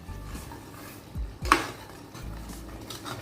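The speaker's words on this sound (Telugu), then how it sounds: "కారం వేసేసి ఒక 1/2 స్పూన్ ధనియా పౌడర్, ఇవి కూడా వేసి బాగా తిప్పుకుందాం ఒకసారి" Spoon scraping and clinking against a pot as chili powder and coriander powder are stirred into a chicken and baby potato kurma, with a few soft metallic knocks and one sharper clank partway through.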